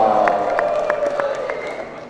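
Audience applauding at a regional government gathering, steady clapping with a few sharper claps poking through a dense crowd roar, loud and continuous over about two seconds.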